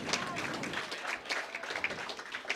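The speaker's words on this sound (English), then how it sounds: "Warm rounds of applause here." Warm crowd applause at a college curling championship final fills the whole clip, dense and sustained, with faint voices under it.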